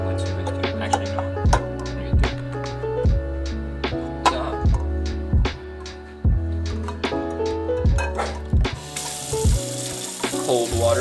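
Cold water runs from a kitchen tap into a sink, a steady close splashing stream broken by repeated knocks and clatters of dishes or a pot, with a brighter hiss near the end.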